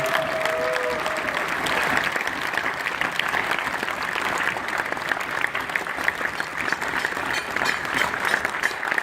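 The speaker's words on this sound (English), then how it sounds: "Please give a very warm round of applause to all the people who made it." A large audience at a documentary screening gives long, sustained applause for the film's team, a dense, even wash of clapping with a few whistles and cheers throughout.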